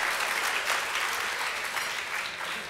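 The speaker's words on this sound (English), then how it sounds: "Give yourself a round of applause if you don't mind." Steady applause from a conference audience for Diane Goldstein's award, a dense even patter of many hands clapping at close range, sustained throughout without voices.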